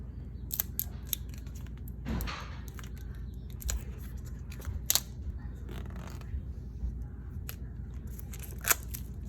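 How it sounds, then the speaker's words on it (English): Pull tab being torn along the paper packaging of an Apple Pencil box, a series of close, crisp ripping and crinkling sounds with sharp snaps over several seconds. "there's like a pull tab here, so I'm gonna pull it."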